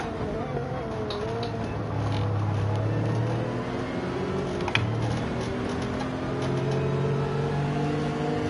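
A Subaru engine drones in Gran Turismo 7, a steady mid-distance hum with rising and falling tonal pitch as the car accelerates and shifts, alone without talk, with a faint tick near the middle.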